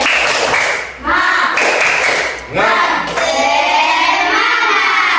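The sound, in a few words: group rhythmic spirit clapping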